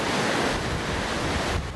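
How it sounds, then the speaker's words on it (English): Waves churned up by strong winds across Sydney harbour during wild weather: a continuous loud roar of surf and wind buffeting, steady and dense throughout. "Yachts were toppled like toys as winds whipped up waves across the harbour."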